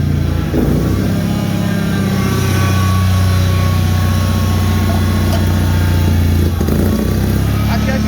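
Loud, close chugging drone of a Bolens HT-23 garden tractor engine running in -40 cold weather, steady throughout with slight surges in its rhythm.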